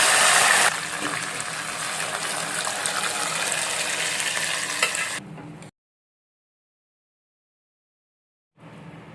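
Garlic, cumin and curry leaves sizzle loudly in hot oil for a lentil dish with tamarind leaves, a dense hissing crackle that fills the first five seconds, then drops to silence before a brief return.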